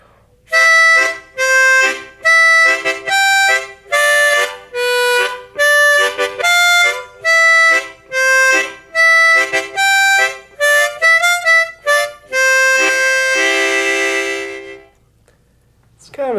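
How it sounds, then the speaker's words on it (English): Harmonica playing Skip to My Lou with a tongue-blocked chord background on holes 1, 2 and 3, fuller reedy chords pulsing under the melody in a lively rhythm, close and alone, ending on a long held chord. "But if I put a little chord background where I pull my tongue off holes 1, 2, and 3, it sounds like this."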